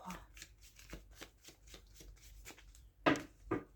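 Tarot cards are shuffled and cut close up: soft, rhythmic riffling flicks at a quiet level, followed by two sharper, louder card slaps near the end.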